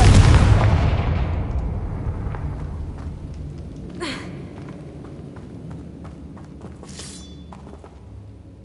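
A Confringo fire spell erupts in the video game Hogwarts Legacy, opening with a loud, broad explosive burst that decays over a couple of seconds, followed by quieter ambient rumble and a couple of brief sharp crackles later on.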